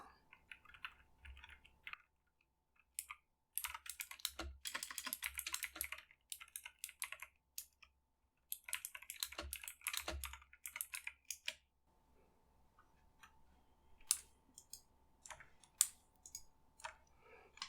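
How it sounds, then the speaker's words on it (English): Bursts of computer keyboard typing, close and clicky, in irregular runs separated by short pauses, with no talking. "I just wanted to include a little bit of keyboard sounds"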